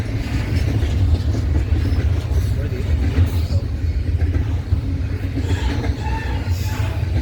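A freight train rumbles past at Fullerton, a loud, steady low roar with rolling wheel noise filling the whole stretch, while people talk nearby.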